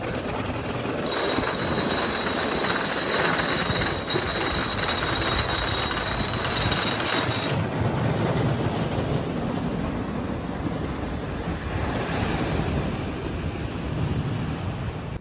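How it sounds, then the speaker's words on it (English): A wooden roller coaster train rumbles along the track continuously, with a thin high wheel squeal for the first half and steady rattling throughout. "they're sending the first train. So let's see how it's running."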